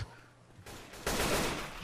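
Auto shotgun fire in Left 4 Dead 2 on a custom map, with a quiet lead-in and then a dense, loud burst of blasts that fills the second half.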